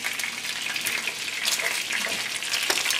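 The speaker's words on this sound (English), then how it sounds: "you gotta watch because chicken splashes a lot" Chicken pieces for chicken cacciatore frying in a pan with too much hot oil, a loud steady crackling sizzle with frequent pops and spatters throughout.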